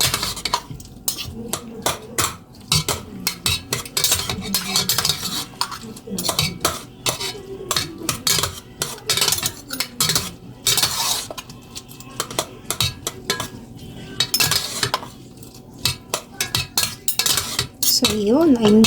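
Utensils toss and mix a salad of fried tilapia and alugbati in a bowl, with rapid clinking and scraping strokes close up and a voice speaking briefly between them.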